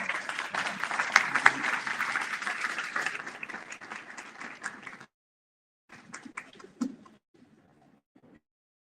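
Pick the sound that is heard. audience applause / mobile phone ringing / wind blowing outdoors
audience applause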